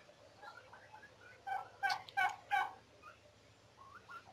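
Turkeys at a turkey farm give a quick run of four gobbles, moderately close, over a low steady background hum with faint scattered bird calls.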